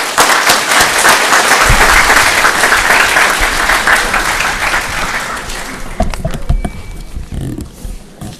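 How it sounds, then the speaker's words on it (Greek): Warm applause from an audience at an evening church gathering, loud and dense at first, thinning to scattered claps and room noise after several seconds. "ευχαριστήσουμε τον πάτερ Σένι με ένα θερμό χειροκρότημα"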